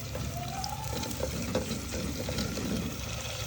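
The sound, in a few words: curry leaves frying in oil until golden brown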